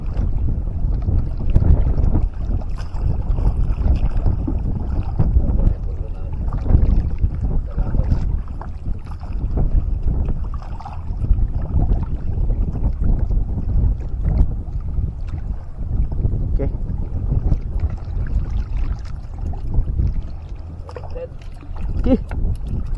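Strong wind buffets steadily over choppy open sea from a small handline fishing boat, a constant roaring rush with gusty surges and water sloshing against the hull throughout.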